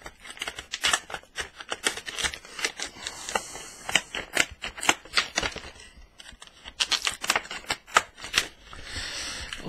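Plastic and cardboard packaging of a Turtle Beach Earforce PX21 gaming headset being torn open and pulled apart, a close series of quick crinkles, rips and crackles in irregular bursts with brief pauses.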